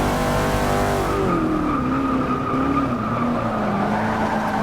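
Shelby Cobra 427 race car in the Forza 6 racing game, its engine roaring steadily at high revs on a straightaway, pitch climbing and then settling, with light tire noise and no talking.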